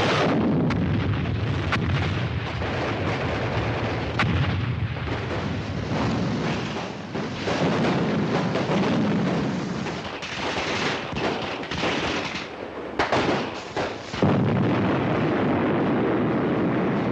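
Artillery and gunfire from a 1953 war film roar continuously for about seventeen seconds, a dense, loud barrage of blasts and rattling shots with sharp cracks standing out, with no talk over it.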